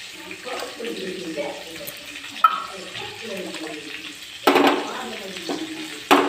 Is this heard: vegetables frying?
yes